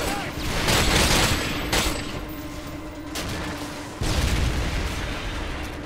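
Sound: video game explosions and gunfire

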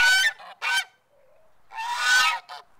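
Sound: geese honking on a farm

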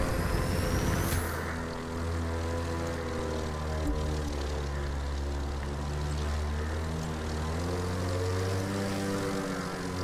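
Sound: airplane flying in The Crew 2 video game

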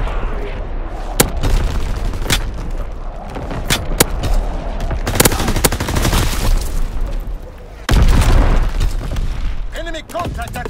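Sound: artillery battery firing in Call of Duty WWII video game

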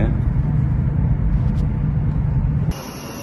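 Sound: high-speed bullet train running in China

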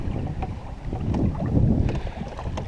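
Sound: wind blowing on a lake while canoeing

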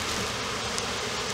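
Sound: honeybees buzzing at an opened hive

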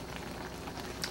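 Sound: creamy mushroom pork chops simmering in a pan

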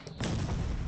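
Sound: shotgun firing in a video game

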